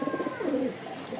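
Caged pigeons, a newly paired couple of fancy flying breeds, give a brief soft cooing burst close by, a few low warbling notes over quiet background.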